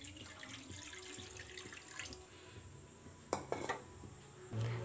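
Water pours from a tap into a pot or pan while a potato dish is being cooked, a soft steady stream with a few clinks of utensils and cookware, fairly faint and without talk.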